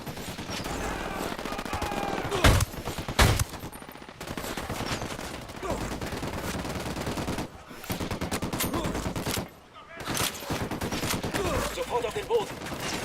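Sustained volleys of automatic gunfire in the Ghost Recon video game, loud and dense throughout, with sharp bursts standing out, a couple of brief lulls, and voices in the mix.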